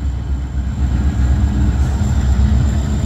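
A train rolls past with a heavy, steady low rumble and faint rhythmic wheel clatter, loud and close throughout with no voices.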